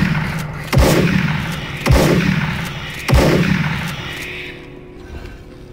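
Shotgun blasts in the shooter game Doom 3, three heavy booming shots spaced roughly a second apart, each with a decaying echoing tail, loud and close.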